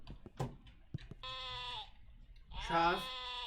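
Two drawn-out sheep bleats, wavering and fairly close, sound in a puzzle guessing game, with short spoken bits and clicks just before them.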